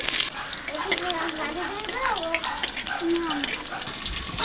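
Bay leaf, panch phoron and dried red chilies sizzle in hot oil for tempering, giving a continuous close hiss and crackle while someone talks over it.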